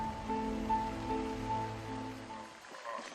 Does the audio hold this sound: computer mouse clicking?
no